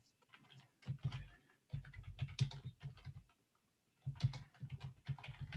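Fingers tap quickly on a computer keyboard in irregular bursts of keystrokes, separated by short pauses, close and crisp with no talking.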